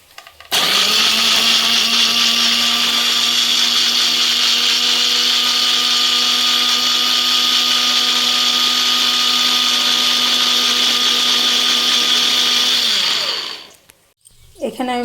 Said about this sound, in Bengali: গোটা জিরে, আদা আর 5টা কাঁচা লঙ্কা। এগুলি এখন আমি পেস্ট করে নেব।